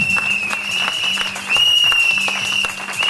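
A church congregation claps steadily and densely to acclaim the Lord, the applause loud and continuous with a high sustained tone running through it.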